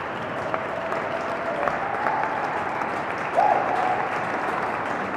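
Audience applause at a real tennis (jeu de paume) women's final, the Open de France, heard as a steady, moderately distant wash of clapping with brief whistle-like tones layered over it.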